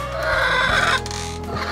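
Brakel chickens in a coop cluck and call close by, with a few clearly separated cackles over a steady low farmyard hum.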